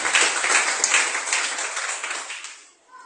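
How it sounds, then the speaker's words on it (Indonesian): Applause from a church congregation during a Sunday worship service, a dense, steady wash of clapping that fades out near the end with no talk over it. "Tepuk tangan bagi Tuhan Yesus."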